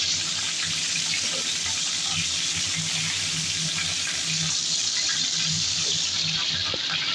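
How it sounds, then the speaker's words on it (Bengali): Cauliflower sizzling in hot onion-flavoured oil over a high flame, a loud, dense, unbroken hiss that holds steady throughout, close up and without speech. "আমরা এখন দিয়ে দিচ্ছি ফুলকপিটা। পেঁয়াজ তেলটা গরম হয়ে গেছে, হাই ফ্লেমে রেখে দিয়ে"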